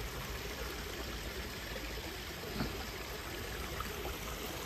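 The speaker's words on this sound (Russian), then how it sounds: "Так звук воды успокаивает," The Warta river in a Poznań park flows with a steady broadband rush of moving water, close and continuous, with no voices.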